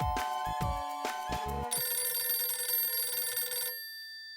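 A mobile phone rings indoors in a domestic sitcom scene, a clear electronic ringtone with repeated tonal bursts that then holds as a steady bright tone before cutting off, heard alone without talk.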